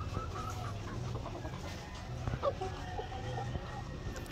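A lively gamecock of about seven months clucks on a farm, with low, scattered calls over a steady outdoor background hum.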